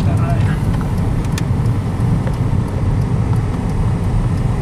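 A Fiat Punto budget city car pulls away with a steady, loud, close engine drone and road rumble that holds at an even level without a break.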